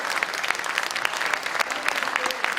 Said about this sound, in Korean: 박 위원장을 큰 박수로 맞아주시기 바랍니다.